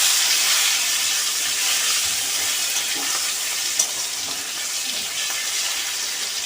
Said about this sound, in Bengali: আমার টমেটোগুলো ভালো করে ভাজা হয়ে গেছে